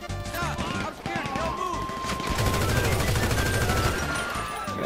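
Gunfire in GTA 5 during a SecuroServ mission shootout, with overlapping bursts of shots and crashes in a dense, busy mix under game sounds and excited voices.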